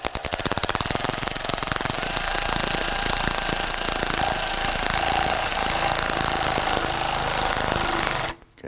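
A ratchet on an extension tightens a hose clamp behind the air baffle of a 2003-2014 Volvo XC90. It gives a loud, close, continuous rapid clatter for about eight seconds, then cuts off abruptly.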